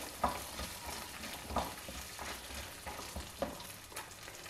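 Small sambar onions, or shallots, frying in a pan with a soft, continuous sizzle and periodic scraping stir strokes roughly every second, quiet and close with no voices.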